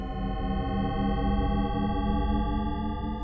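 Shepard tone continuous glissando, a layered stack of sliding tones that seems to fall or rise endlessly, steady and unbroken with a hazy, slightly distorted texture and no voices.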